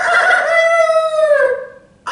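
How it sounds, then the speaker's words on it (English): A rooster crows close and loud, one long drawn-out cock-a-doodle-doo that tapers off, alone with no talk. "I hear a rooster crowing."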